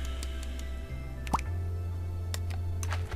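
A single watery drip with a rising plop sounds once in the Scribblenauts Unlimited game, over a low steady musical drone and faint clicks.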